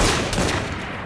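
A musket volley in the video game Assassin's Creed Syndicate: a loud, close burst of massed gunfire that rolls off quickly.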